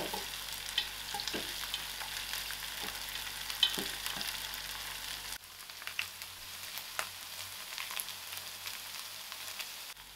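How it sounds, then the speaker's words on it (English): Curry leaves, ginger and garlic fry in hot oil for aloo gobi, a soft continuous sizzle with light stirring clicks that quietens partway through. "curry leaf, my ginger and garlic, I'll give this 2 seconds to fry"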